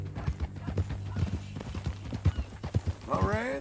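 Horse hooves in Red Dead Redemption 2 clop in a quick, regular rhythm, loud and close, with a voice joining near the end.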